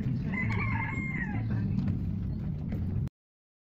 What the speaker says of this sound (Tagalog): Daming manok pala dito.